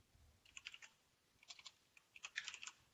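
Keys clatter on a computer keyboard as a file name is typed, three quick clusters of faint, close clicks separated by short pauses.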